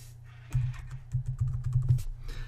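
Someone types a short word on a computer keyboard, a quick run of close, crisp keystrokes lasting about a second and a half, with no voices.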